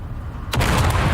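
A sudden deep boom from a grenade explosion in Dune Awakening, quiet rumble first, then a loud broad blast that hangs on as a heavy rumbling tail.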